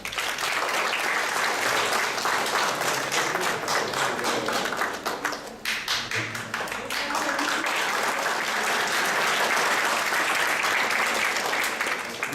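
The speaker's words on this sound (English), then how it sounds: "Give yourself another big round of applause." Sustained applause from a large audience at a technology and innovation talk, dense steady clapping throughout the full length with a brief dip midway, filling the hall without interruption.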